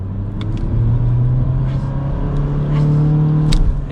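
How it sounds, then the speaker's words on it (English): A 2022 Honda Civic LX in its S drive setting accelerates hard, its engine drone rising steadily in pitch and holding loud and close for the whole stretch, with no talk over it. "we'll give it another quick acceleration"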